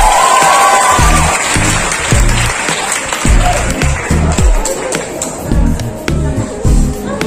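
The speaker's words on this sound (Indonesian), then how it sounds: "Tepuk tangan loh kawan-kawannya nih." New engineering students at a university orientation in a hall clap and cheer loudly, a dense crowd roar with shouts and whoops over rhythmic, thumping claps that keeps going across several seconds.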